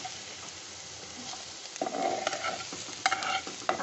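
Ground spices are stirred and sautéed in a pan for a Bengali home recipe, with a soft, steady sizzle under repeated spoon scrapes and clinks, growing a little busier partway through, close and with no talk.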